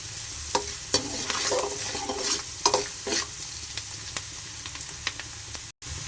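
Chopped onions with a little salt being sautéed in a pan for a Tamil-style chicken kulambu, steady close sizzling broken by repeated scraping stirs of a spoon against the pan, no talking.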